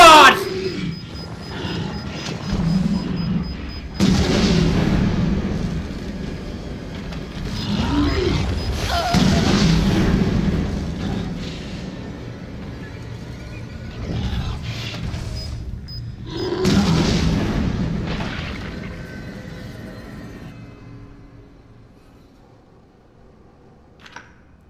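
Explosions go off in the Resident Evil 7 video game: several heavy, roaring booms with long rumbling tails, spread across a loud, busy stretch that fades toward quiet at the end.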